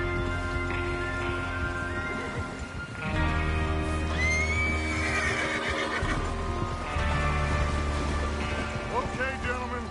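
Horses in the Western video game Red Dead Redemption 2 whinny loudly and repeatedly over a steady hooves-and-ambience bed, with clip-clop footfalls and a low hum running throughout.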